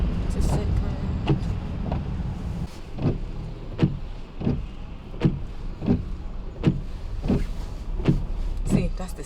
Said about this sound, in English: See, that's the sound. Like when I'm braking.